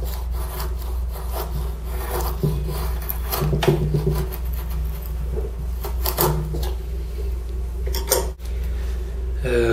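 A small bi-metal knife notches pine softwood with repeated rasping, scraping strokes, close and fairly loud over a low steady hum, in irregular bursts of rubbing and cutting.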